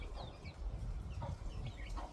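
A chicken clucks softly in a farmyard, with several short, faint clucks scattered over low background rumble and no one talking.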